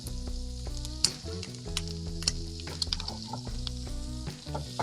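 Steak searing in a pan with fresh rosemary and thyme, a close, bright sizzle with sharp spits and crackles under a soft background hum of music.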